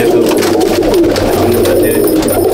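Madrasi pigeons in a loft cooing together, a dense, steady chorus of overlapping low coos filling the room at close range without a break.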